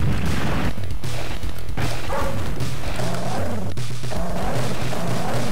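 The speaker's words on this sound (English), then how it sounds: "Dogs!" Arcade video game N.A.R.C. with dogs barking and yipping in a dense burst of game sound effects and music, the barks repeating throughout at a steady loud level.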